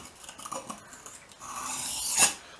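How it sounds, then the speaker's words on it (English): A kitchen knife swiped along a sharpening stone, soft gritty rubbing strokes building to one louder rasping swipe near the end, close and without talk. "lay it flat, rock it on the bevel, and then swipe"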